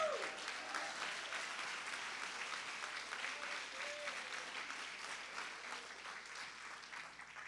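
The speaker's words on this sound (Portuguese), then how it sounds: "Quem é livre aqui, aplauda o Senhor." A church congregation applauds steadily and loudly throughout, a dense continuous wash of clapping filling the space with no break.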